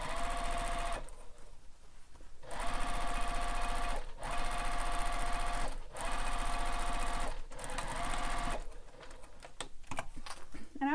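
A sewing machine stitches across the bottom edge of a bowler bag, loud whirring bursts of rapid needle clatter separated by short pauses, with faint handling clicks at the end.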